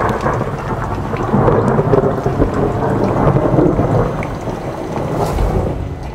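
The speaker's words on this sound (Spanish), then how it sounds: "En una noche oscura como el carbón, con relámpagos que ya acompañan la tormenta" Heavy rain pours steadily through a thunderstorm while deep thunder rumbles roll underneath, a continuous loud wash with no voices.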